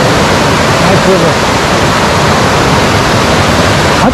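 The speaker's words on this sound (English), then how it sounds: "Nice river." A river in Costa Rica rushes past in a loud, steady, unbroken roar that fills the whole moment close by.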